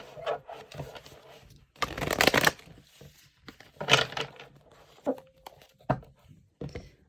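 A deck of tarot cards gets shuffled by hand in several separate bursts of riffling and sliding, close and fairly loud, with short quiet gaps between them.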